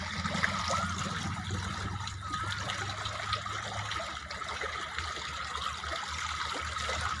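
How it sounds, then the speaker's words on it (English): Steady rushing water flows without a break, a continuous broadband wash like a small waterfall or stream, fairly close and even in loudness throughout. "The sound like a waterfall."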